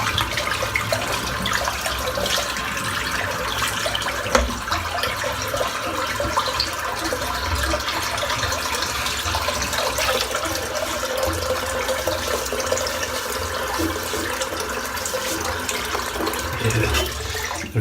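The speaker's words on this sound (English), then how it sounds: "I'm just going to empty the sink out because it is full of goop." A sink full of shaving lather and water draining away, a steady rushing, gurgling wash of water that runs loud and unbroken throughout, with no voices.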